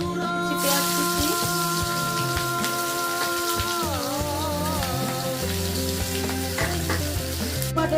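Chopped onion frying in a pan for a katla fish curry with maan kochu, a dense crackling sizzle under prominent music throughout.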